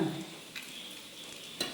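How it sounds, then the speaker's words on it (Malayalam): Quiet, steady sizzle of onions sautéing in a pan, with a couple of brief scraping stirs, no voices. "ഉള്ളി വരട്ടിക്കൊണ്ടിരിക്കുക"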